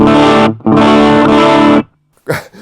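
An electric guitar plays through a beginner starter-set amp turned up, harsh crackling distortion in two loud sustained strums, then a short quiet pause and a brief burst of talk.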